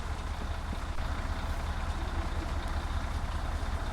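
Ashoka Travels bus idling in a bus driving video game on a Tirunelveli to Trichy run: a steady, low diesel rumble holding constant throughout, with no talk.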